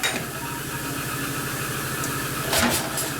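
A 1939 Indian FCI factory hill-climber motorcycle engine runs on a dyno with little choke, idling steadily at low volume, with a brief louder surge near the end.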